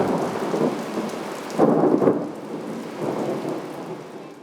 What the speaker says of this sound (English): hearing the rain and the thunder bouncing off the mountain